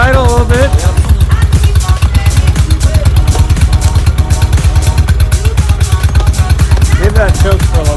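A Honda Shadow motorcycle engine idles steadily after old fuel is cleared from a clogged fuel petcock, giving a close, continuous low throbbing with people talking over it.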